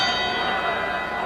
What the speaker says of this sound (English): The bell for second round action here in the Providence Civic Center.